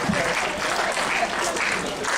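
A lecture-hall audience keeps up dense, steady clapping that fills the whole moment without a break.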